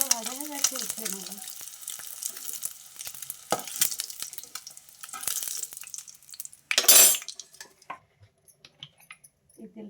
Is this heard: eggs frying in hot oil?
yes